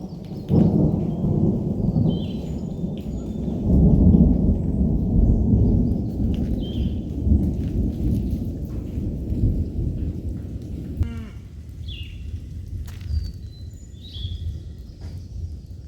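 Heavy rain pours down steadily while a long, deep thunder rumble rolls through, easing after a sharp crack late on, leaving softer rainfall and a few faint birdlike chirps above.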